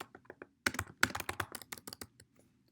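Rapid clicking keystrokes on a computer keyboard, starting with a few scattered taps and then a quick, dense burst of typing that tapers off, close and clear, with no voices.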